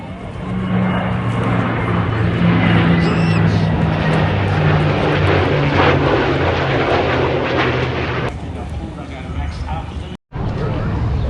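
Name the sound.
jets flying past at Avalon airshow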